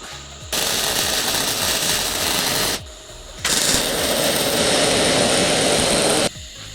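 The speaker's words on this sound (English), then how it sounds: "So I'm now just going to quickly weld this one up and have it ready to go." Arc welding on a steel trailer drawbar for a DIY camper trailer, two long steady crackling buzzing runs of about two and three seconds separated by a short pause, close and loud.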